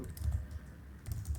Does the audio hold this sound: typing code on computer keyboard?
yes